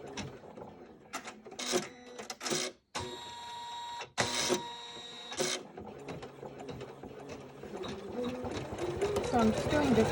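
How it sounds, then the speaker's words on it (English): An embroidery machine stitches with a mechanical whirring and clatter that starts, pauses and restarts in short bursts, then settles into a steadier run. A voice talks over it at times. "So now I'm ready to embroider."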